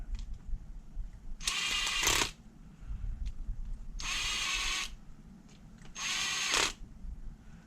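Three short bursts of a power drill whirring and rattling as the bit skips off screw heads on an HPI three-speed transmission, each about a second long, separated by quiet pauses with faint clicks.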